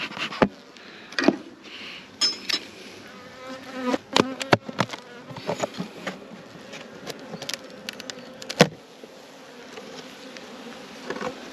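Honey bees buzz steadily around a hive, with individual bees droning close by in quick passes over a dense background hum.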